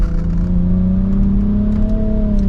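A 2023 Nissan Rogue Platinum AWD with a CVT, driven in sport mode, accelerates with a steady, close engine drone whose pitch rises smoothly over low road rumble, with no talking.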